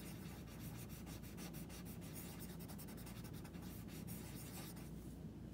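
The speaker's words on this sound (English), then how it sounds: "next, I'm going to use the other side for the colored pencil." Colored pencil rubbing on paper in a blending drawing technique, soft continuous scratchy strokes with a quick back-and-forth rhythm, very faint and close, no talk.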